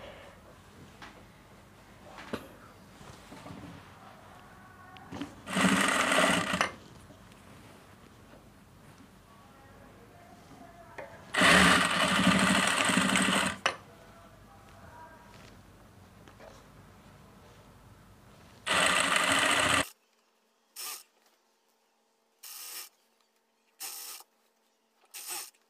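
Sewing machine stitching the side pockets of a pair of trousers, running in three loud sustained bursts of a few seconds each, then a series of short stop-start runs, with a quiet room between them.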